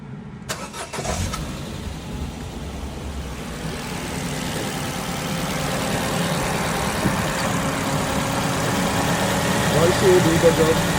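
A Ford B-Max engine starts with a brief crank, then settles into a steady low idle that gradually grows a little louder, heard close by in a workshop.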